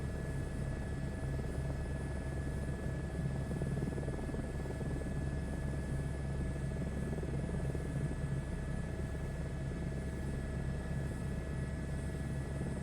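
A helicopter flying in Microsoft Flight Simulator 2024, heard as a steady, continuous rotor and engine drone with a low hum, holding an even level throughout with no talking.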